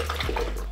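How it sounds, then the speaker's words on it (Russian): Liquid poured for a milkshake, a steady watery pouring splash running close and continuous for under a second, with no talk over it. "я открыла и уже наливаю"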